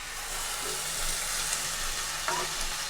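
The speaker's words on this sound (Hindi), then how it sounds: "और अब इसे मीडियम फ्लेम पर लगातार चलाते हुए थोड़ा सा भून लेंगे।" Onion paste with red chili and spices frying in a pan over a medium flame while being stirred, for dhaba-style black chana chole; a steady close sizzle with soft scraping throughout.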